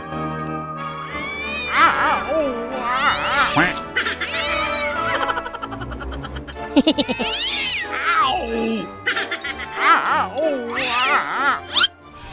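A cat on a baseball field meows repeatedly in drawn-out, wailing cries, mixed with quacking-like calls and brief clattering, loud and close.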